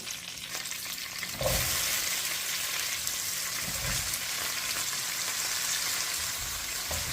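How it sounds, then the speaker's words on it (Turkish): Chopped peppers frying in a pan for a tomato-sauce pepper dish, a steady dense sizzle and crackle filling the whole stretch, close and fairly loud, with a few stirring scrapes and no talk. "Doğradığımız biberlerimizi tavamıza alalım."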